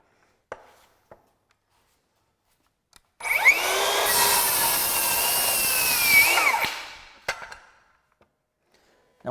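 A Metabo HPT 7-1/4-inch circular saw spins up and rips through a wood test cut for about three seconds, loud and close, then winds down, with a few faint clicks and taps before and after.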